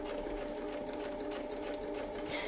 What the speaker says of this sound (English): So we're now going to sew up the template,